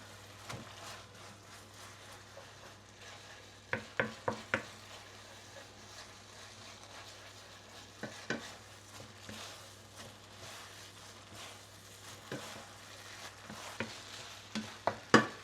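Fried beehoon rice noodles being stir-fried in a pan at home: a steady low sizzle with clusters of sharp scraping and tapping strokes from the utensil against the pan, close and alone.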